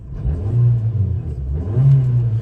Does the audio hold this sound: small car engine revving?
yes